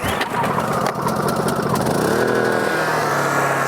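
A gas-powered engine is started with a pull cord, with a couple of rough pulls and sputters before it catches and settles into a loud, steady running drone close by.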